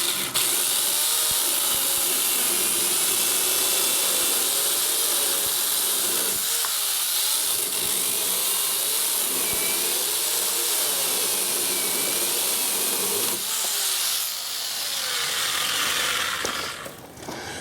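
A Ryobi 6 amp electric pole saw runs and cuts into a log, producing a loud, steady high-pitched whine and hiss that shifts as the chain bites, then drops away near the end.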